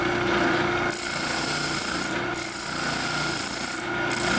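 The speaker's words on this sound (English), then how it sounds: "we just need to clean up the line using our spindle sander" A spindle sander smooths the cut line on a piece of wood for a homemade cheese slicer, a steady close motor hum under a gritty rubbing sound that pulses briefly as the workpiece shifts.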